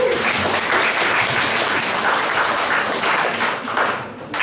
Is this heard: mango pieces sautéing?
no